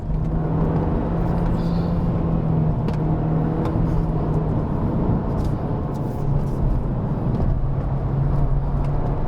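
A 2019 Volkswagen Beetle 1.2 TSI family car in its lowest spec is driven hard up the Genting hillclimb, with a loud, steady engine drone and road rumble close inside the cabin and no talking.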